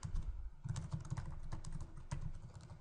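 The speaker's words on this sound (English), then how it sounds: "So we just type in" Fingers typing on a computer keyboard, a quick run of light, close keystroke clicks with short uneven pauses and no talking.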